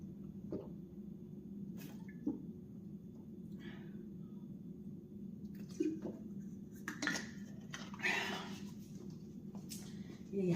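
Metal cooking pots and dishes clink and clatter intermittently in a home kitchen over a low steady hum, with occasional light knocks and a brief trickle of water.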